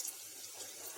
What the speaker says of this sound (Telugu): సరిపడేదన్ని నీళ్లు పోసుకోవాలి.